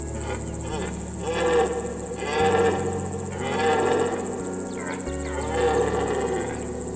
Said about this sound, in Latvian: fonā ik pa brīdim dzirdama briežu rūkoņa